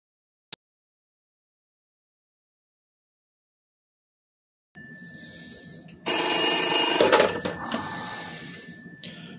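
An old dial telephone fitted with an American dial card, rung from another line, gives a single faint click followed by silence, then a rising hum and a loud, jangling bell ring lasting a few seconds nearby.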